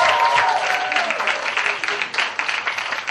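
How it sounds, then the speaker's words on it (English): Dense, close applause from an audience honouring a team member at a pageant meet, with a voice calling out at first and the clapping staying even before thinning slightly. "give a big round of applause to her."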